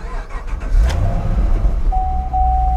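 A car engine runs and revs up, a loud steady mid-low rumble with a rise in the middle, recorded close on a Copart salvage yard lot; a thin steady whine appears near the end.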